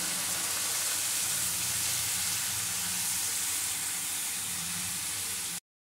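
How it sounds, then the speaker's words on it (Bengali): Green chili spice paste with water sizzles in a pan, a steady loud hiss of frying that fills the clip, then cuts off abruptly near the end. "কাঁচা লঙ্কা পেস্ট দিয়ে একটু জল দিয়ে মশলাটা আমি কষিয়ে নেব"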